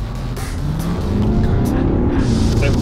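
A VW Touareg with a 4.0-litre V8 biturbo diesel making 421 hp accelerates hard, its deep engine roar climbing steadily in pitch and loudness, heard from close by inside the car.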